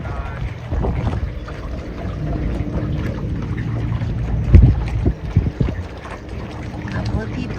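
A sailboat moving through Edgartown Harbor in the off season, with steady wind rushing over the microphone, water swishing against the hull, and a brief bump partway through.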